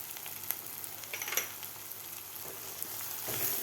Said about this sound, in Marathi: व्यवस्थित आपल्याला परतून घ्यायचं आहे